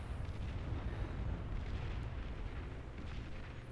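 Long-range napalm artillery vehicles fire in a late-game battle in Beyond All Reason, heard as a dense, continuous rumbling wash of blasts and fiery bursts with no distinct single shots standing out.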